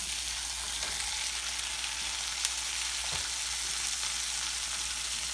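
Organic sirloin steaks frying in a pan, giving a steady broadband sizzle with faint crackles and a couple of sharper pops, continuous and close without any voices.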